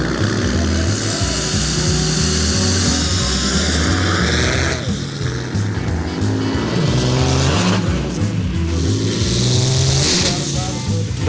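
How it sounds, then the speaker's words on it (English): Ford Mustang launched at full boost while being pulled out of a pond, its engine revving hard and loud with shifting pitch over constant roar, amid a $500 car race at Glamis. "about to leave full boost right now and pull his Mustang out the water"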